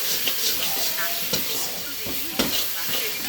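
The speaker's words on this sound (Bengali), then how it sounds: "বেটে রাখা মশলা, হলুদ, সামান্য লঙ্কার গুঁড়ো আর স্বাদ মতো চিনি দিয়ে মশলা কষিয়ে মশলা থেকে তেল বেরিয়ে আসলে ভাজা বেগুনগুলো দিয়ে" Fried eggplant pieces cook with ground spice paste, turmeric, chili powder and sugar in hot oil, giving a steady close sizzle and hiss with a few sharp stirring clatters.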